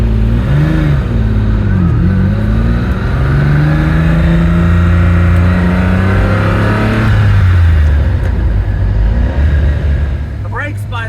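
Lamborghini Countach engine revving while driving, loud close-up howl rising and falling through gear changes with sliding pitch sweeps, with a person talking over it.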